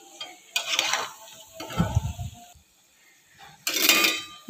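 Palm fruit pitha frying in a pan, with bursts of spatula stirring and scraping over a soft oily sizzle and some metallic clinks, close by and moderately loud, with quiet gaps between the bursts.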